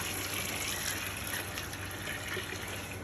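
Five liters of water pour steadily into a bucket, a continuous close gushing fill with no break.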